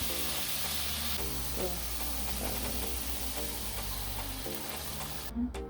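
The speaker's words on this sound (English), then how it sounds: "Now we're going to go in with the coconut milk." Coconut milk poured into a simmering pan of jerk shrimp rasta pasta sauce, giving a steady, close sizzle and bubbling hiss with faint stirring scrapes throughout, alone without talk.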